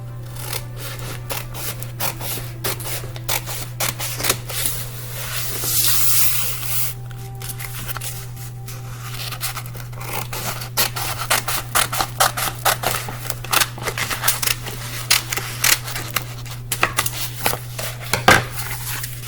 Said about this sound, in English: So I'm going to grab my scissors. I'm just going to cut.